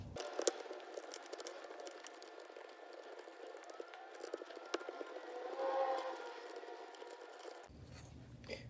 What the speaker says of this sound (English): Unscrew that screw and that screw so that you can feed this wire through the box.